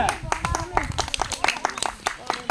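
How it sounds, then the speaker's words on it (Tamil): Children at a Sunday school song session clap hard in quick, uneven bursts, close and loud, with voices speaking and calling out over the clapping. "ஜோர கைத்தட்டுங்க"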